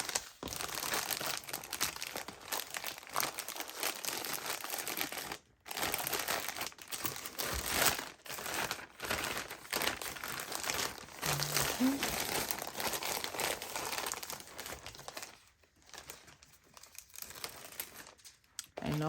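An order is packed into an envelope at a small business packing station, with steady crinkling and rustling of packaging throughout, briefly pausing, and a voice speaking over it.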